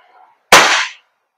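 A WE Beretta M92 airsoft gas blowback pistol fires a single sharp, loud pop that decays quickly into quiet, preceded by a faint mechanical click.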